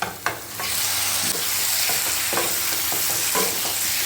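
Liver and ash gourd pieces sizzle as they are sautéed in masala in a pan, with a steady frying hiss broken by several spoon-stirring scrapes, close up with no talk.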